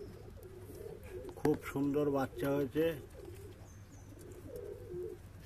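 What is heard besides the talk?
pigeons cooing in a loft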